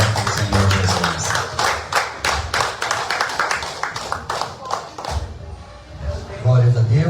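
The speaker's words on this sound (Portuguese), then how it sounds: "as palmas, mais uma vez, aqui do Senhor Jesus" Church congregation at a Holy Communion service clapping in steady rhythmic unison, loud and close, with a few heavier thuds and voices mixed in.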